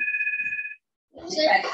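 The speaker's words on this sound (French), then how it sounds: "c'est le téléphone qui sonne fixe." Landline telephone ringing in a home kitchen during a children's baking session: a steady two-tone electronic trill lasting under a second, followed by a pause and then someone talking.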